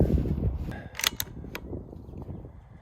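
A Bergara B14R bolt-action rifle being reloaded outdoors, with a few sharp metallic clicks of the bolt cycling over low wind rumble.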